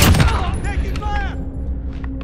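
Gunfire in Call of Duty Modern Warfare during a Domination match, a burst of shots up front that eases into a steadier, lower rumble with scattered pings, heard under game noise.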